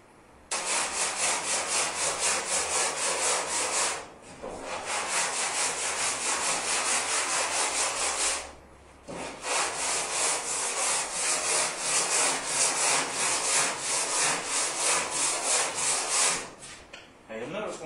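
Rapid, rhythmic rasping of 80-grit sandpaper scrubbing a 1959 Chevy pickup truck hood, loud and close, in long strokes broken by two short pauses.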